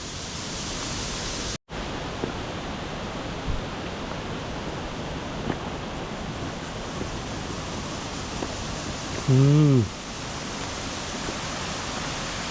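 Steady roar of a waterfall fills the scene, with a brief murmur from a person partway through.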